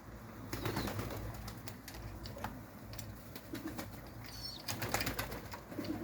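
Pigeons cooing and fluttering amid a dense, continuous outdoor background, with scattered wing flaps and soft calls throughout.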